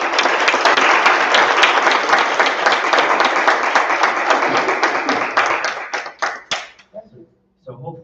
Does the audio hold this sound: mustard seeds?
no